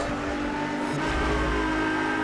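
Nissan 370Z engine in the racing game Need for Speed Hot Pursuit, driven as a police car in a chase, a steady loud roar with rising revs and faint tire noise throughout, no voices.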